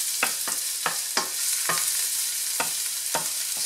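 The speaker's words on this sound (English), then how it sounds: "Saute your garlic very well," Garlic sautéing in a pan while it is stirred, with a steady bright sizzle and about eight distinct scraping stir strokes at an irregular rhythm, close and clear with no talking.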